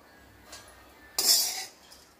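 Roasted onion scraped from an iron kadhai onto a plate, one short bright metallic scrape after a faint tap, close up in a quiet kitchen.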